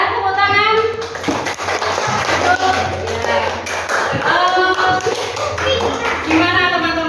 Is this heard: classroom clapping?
yes